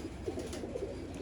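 Lahore pigeons of the Teddy breed coo softly nearby, a few low warbling calls coming in quick succession over faint background noise.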